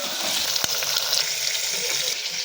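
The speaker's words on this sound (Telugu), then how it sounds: "తాలింపు ఇప్పుడే వేసింది." Tempering spices crackles and sizzles in hot oil for a home-cooked chicken curry, a steady close frying hiss with a single sharp pop early on.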